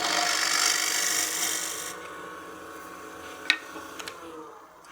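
A bright, scraping hiss of a lathe turning tool facing off a wooden pot for about two seconds, then fading to a quieter hum with a few sharp clicks.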